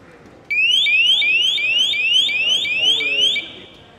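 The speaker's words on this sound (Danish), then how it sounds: "Det går alarmen til." A G4S security alarm goes off in a house, a loud electronic siren made of rapid rising whoops repeated for about three seconds before cutting out.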